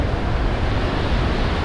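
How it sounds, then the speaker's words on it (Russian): Big sea waves pound a beach under strong wind, a dense, loud, continuous roar of surf and wind buffeting the microphone close by, with no talking. "Сегодня очень большая волна и сейчас очень сильный ветер."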